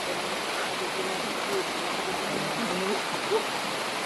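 Heavy rain pouring down outdoors, a steady broadband hiss like rushing water, constant and enveloping with no breaks, faint voices occasionally surfacing beneath it.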